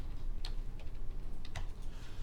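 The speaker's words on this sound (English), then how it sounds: "I could do it the old school way and just go to command prompt and type in IP config" Quick keystrokes on a computer keyboard as a command is entered at a command prompt, a short close run of light clicks over a steady background hiss.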